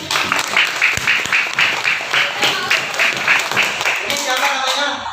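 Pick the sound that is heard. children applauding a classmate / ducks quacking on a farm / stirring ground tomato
children applauding a classmate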